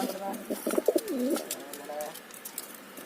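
A pigeon in a pigeon loft coos softly a few times nearby, low rolling calls with faint rustling and distant background noise.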